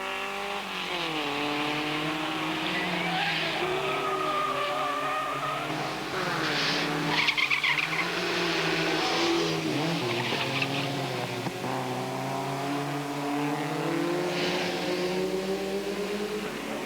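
Vintage race cars, a Lancia Aurelia chasing three Alfa 1600s at the 1990 Grand Prix de l'Age d'Or, roar past with engines rising and falling through gears, loud and continuous, with tire squeal mid-run.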